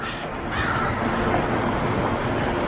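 Crows cawing at an outdoor location near buildings, a loud, harsh, continuous chorus of overlapping calls close by, filling the whole moment with no talk.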